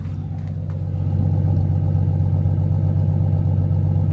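Classic Ford car engine idling after a cold start, a close, low, steady rumble that firms up and grows slightly louder after the first second, running alone without talk.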